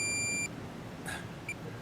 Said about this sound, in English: we've got your pinpointers going off everywhere.